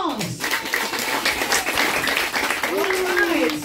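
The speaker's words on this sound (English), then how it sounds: "Mabayama family, a big, big round of applause." Audience applause welcoming a family at a relatives' gathering, continuous clapping from a crowd with voices and cheering mixed in, moderately loud.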